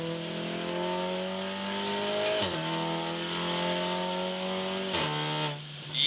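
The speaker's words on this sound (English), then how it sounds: "third gear pull for you" Volkswagen Golf R pulling hard in third gear from 55 mph, the engine note climbing steadily with brief dips at shifts, loud and close from inside the cabin, without talk.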